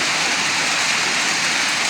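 Rain falls in South Cotabato as a dense, even hiss that holds at the same level throughout, steady and close, with no voices.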